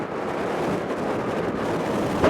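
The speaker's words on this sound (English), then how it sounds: "the wind is exceptionally intense" Intense, constant wind buffets a protected microphone outdoors on a very windy day along Route 66 in Oklahoma or Texas, a loud steady roar with a brief stronger gust at the end.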